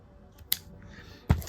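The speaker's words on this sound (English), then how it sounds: "Come back in with my shears." Fabric shears make two crisp, close snips, a brief one then a louder, fuller cut, while trimming yarn on a small pouch woven with pins and card, otherwise quiet.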